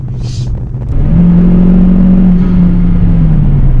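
Intake of a 5.0 car fitted with an Injen short ram intake, sucking air as it accelerates on the road. It is heard from inside the cabin as a loud, steady rumble with a rising whirring drone.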